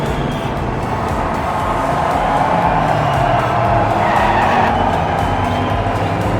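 Diecast toy cars, including a Porsche, an Alfa Romeo and a Nissan, race along a track with a continuous close rolling rumble and whir. A slight surge comes near the end, with no talk.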